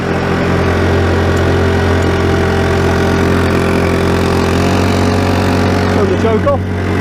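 A small engine pushing an 8ft plywood boat on the water, a loud, close, steady engine drone that holds throughout with little change, a voice briefly heard underneath.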